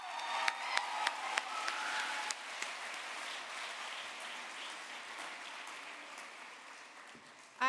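Audience at an environmental education awards ceremony applauds its winners, dense clapping with a few sharp claps standing out early, then steady sustained applause that thins slightly toward the end.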